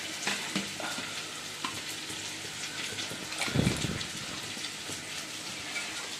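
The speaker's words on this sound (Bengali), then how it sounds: "আলুগুলো তো ভেজে নিয়েছি, ভেজে মশলা দিয়ে এবার কষাচ্ছি।" Potatoes with spices and cumin seed tempering sizzle steadily in a kadai, a continuous close frying hiss with a brief louder burst of stirring in the middle.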